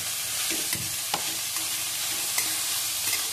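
Vegetables for momos are sautéed in a pan with a constant bright sizzle, joined by occasional soft scrapes and taps of a spatula, close and steady throughout with no talking.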